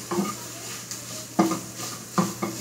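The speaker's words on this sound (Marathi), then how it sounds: "2 ते 3 मिनटं तुम्हाला व्यवस्थित परतून घ्यायचं आहे" Paneer being sautéed and stirred in a pan over low heat: a steady faint sizzle broken by repeated scraping strokes of a spatula against the pan, close and moderately loud, with no talking.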